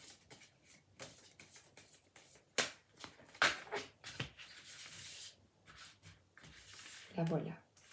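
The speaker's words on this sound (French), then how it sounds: "Je vais prendre une carte du tarot de Marseille." Tarot de Marseille cards are handled and drawn from a deck: papery shuffling and rustling with a few sharp flicks and slaps, close and moderately loud, with a voice in between.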